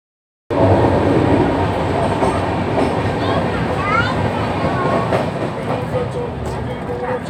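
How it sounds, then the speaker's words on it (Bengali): The interior of the Kandari Express, train 22897, sits at a Howrah platform, giving a steady loud rumble and hum with faint squeals and clicks and station bustle around it. "আমরা কান্ডারি এক্সপ্রেসের জন্য ওয়েট করছি"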